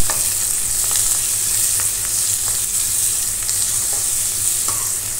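Mint and coriander leaves being stirred into a sizzling quail and cashew curry, a loud continuous frying hiss with scattered soft scrapes of the spoon and no voices.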